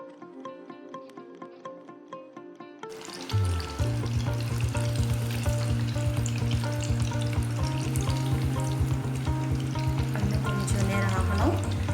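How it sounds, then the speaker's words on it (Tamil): Fish fingers are added one at a time to hot oil in a pan at medium heat, and a loud, bright sizzle starts suddenly after a few seconds of quieter kitchen sounds. The frying then crackles steadily and busily until the end. "இப்போ நம்ம ஃபிஷ் ஃபிங்கரை ஒன்று ஒன்றா எடுத்து இந்த மாதிரி ஆட் பண்ணி ஃப்ரை பண்ணுவோம்."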